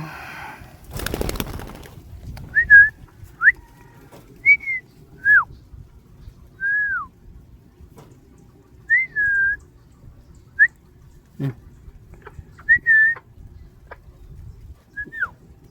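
Birds feeding in a fruiting tree give short, sparse whistled calls at intervals over a quiet background, with a brief rustling thump near the start.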